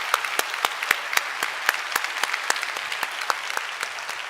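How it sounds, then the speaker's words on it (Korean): A church congregation claps during a Sunday service in thanks to volunteers, with sharp, distinct claps at first and then steadier, moderately loud applause. "마음 담아서 박수하도록 하겠습니다"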